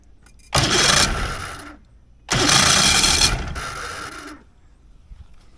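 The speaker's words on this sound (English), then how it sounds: "We'll reach up in here and hit the starter." An 85 HP Mercury outboard motor's starter cranks in two loud bursts of about one and a half seconds each, the second running longer and tapering off, with a brief quiet gap between them and no talking.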